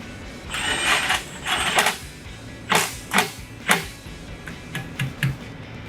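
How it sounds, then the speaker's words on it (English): Ratchet working a Torx T30 bolt into a Camaro SS rear brake rotor: a run of short, crisp mechanical clicks in uneven bursts, close and moderately loud with no talk. "take your Torx bolt and take your T30 with your ratchet and put it back in"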